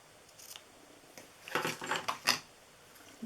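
Scissors trimming material for an Easter basket, a quick run of close, crisp snips and clicks lasting about a second, with no talk.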